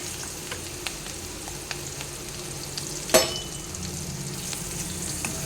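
Chopped onion and garlic sizzle in hot oil as a tempering for bitter gourd curry, a steady close frying crackle with a few stirring scrapes and one sharp clatter midway.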